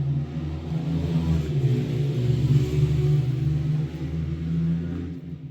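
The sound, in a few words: motorbikes and cars passing outside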